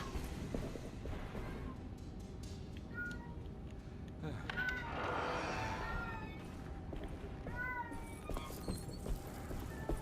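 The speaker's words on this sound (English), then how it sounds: "my cat is meowing in the background" A house cat meows several times in the background, short rising and falling cries scattered through the passage under steady room noise and a video game's ambient sound.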